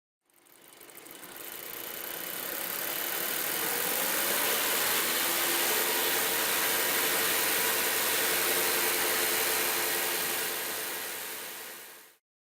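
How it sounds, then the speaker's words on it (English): A car engine running rich of stoichiometric, rising to about 2500 RPM, a steady mid-pitched hum that swells in over the first seconds, holds evenly, then cuts off abruptly near the end. "The engine is now running rich of stoichiometric."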